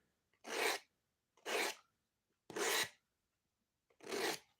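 A knife blade strokes across a diamond sharpening stone in four separate, evenly spaced rasping passes, close and distinct, with silence between each scrape.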